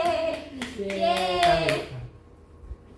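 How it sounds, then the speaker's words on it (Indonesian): A voice speaks and cheers while a few hand claps sound close by, then things quiet down. "Tepuk tangan. Tepuk tangan. Yeay."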